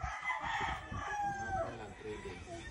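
A grey gamefowl rooster crows in a long, drawn-out call with clucking fowl around it on a farm, moderately far away.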